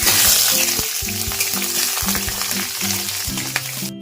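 Onions frying in hot oil with bay leaf and whole garam masala for a Bengali chicken stew, a steady close sizzle broken by scraping stirring strokes, no talk.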